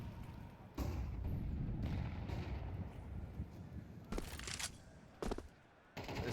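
Gunfire in Counter-Strike 2 on the Nuke map during a Major playoff match: several loud bursts of shots and impacts break through under a steady game and crowd bed, with sharp peaks near the start and toward the end.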